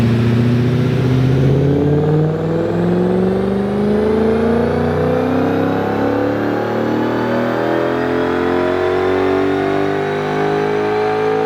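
Audi S4 engine pulling hard on a dyno run, a loud continuous rev climbing steadily in pitch from low to high as the car accelerates through the gears on the rollers.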